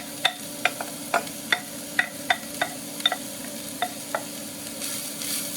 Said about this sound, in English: So I'm just going to add that, and my pan has been preheating.